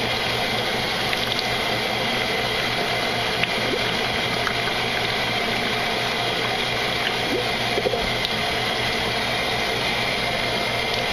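Lukewarm water fills a 2-liter bottle in a steady, loud gushing rush that runs continuously over a low mechanical hum, with no talking.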